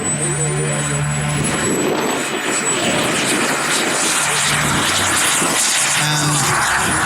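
A large-scale model F-16 jet accelerates down a runway: a loud, steady turbine roar with a high whine that climbs in pitch, continuous throughout the take-off run.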